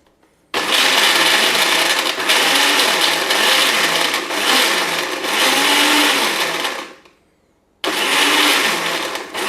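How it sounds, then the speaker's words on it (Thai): A blender whirs loudly, blending a lime dressing for steamed fish: a long continuous roar of about six seconds, a brief stop, then a second burst starting up. "ปั่นใครชอบแหลกก็ปั่นจนแหลกละเอียดได้เลยนะครับ"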